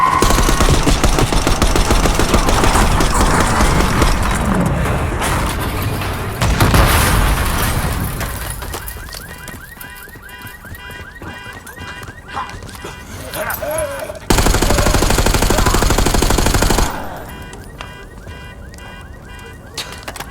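Gunfire in a video game as shooters open up on a limousine coming down a street, loud bursts of rapid shots and booms that cut in and out in heavy blocks, with a voice briefly over the shooting.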